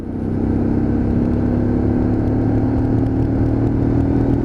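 A Lexmoto LXR 125cc Euro 5 motorcycle pulls from very low revs in sixth gear, its engine a steady, close drone that slowly winds up in pitch over a few seconds, with no voices.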